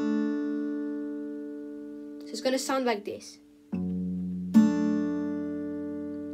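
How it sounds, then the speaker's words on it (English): Guitar's second and third strings plucked together with a finger, a sustained two-note ring, a brief spoken line over it, then two more plucks ringing out close and clear. "These two strings, the second and third string together"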